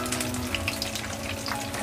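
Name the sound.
chicken leg pieces frying in a pan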